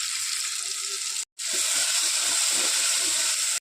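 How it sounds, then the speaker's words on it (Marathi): Onion frying in oil in a pan for a chicken curry gives a steady, bright sizzle that holds evenly for over a second, cuts out briefly, then resumes just as loud and continuous. "आणि त्याला छान तेलामध्ये फ्राय होऊ दे"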